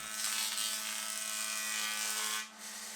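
A woodworking machine flattens reclaimed timber boards and 4x2s for a workbench, giving a loud, close, steady high-pitched cutting roar with a constant motor hum, dipping briefly near the end before continuing.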